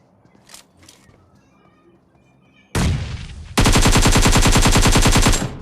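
Video game gunfire in PUBG Mobile starts quiet, then a few sharp shots ring out, followed by a loud, sustained burst of rapid automatic fire lasting about two seconds.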